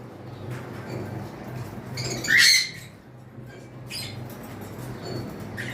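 Lutino and pied pet parrots give a sharp, loud squawk in the middle, with a few fainter chirps and calls scattered around it over a low background hum.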